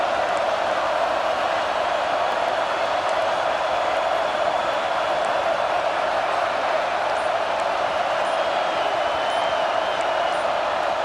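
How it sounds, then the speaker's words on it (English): A big stadium crowd roars continuously at a Duke vs Ohio State football game, a dense, loud wash of voices that holds steady without breaks. "Listen to this crowd just shaking the girders of this place, trying to help their defense."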